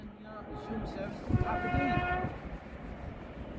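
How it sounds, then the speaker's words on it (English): An LNER train approaches Northallerton station and sounds a two-tone horn, the two sustained notes blaring loudly over the rumble of the train. A voice talks quietly at the start. "The LNER is now approaching."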